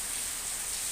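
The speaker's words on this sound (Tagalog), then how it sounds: "Ito ang lakas ng ulan, sobrang lakas ang ulan" Heavy rain pours down in a continuous, loud wash of hiss, unbroken and close, with no voices over it.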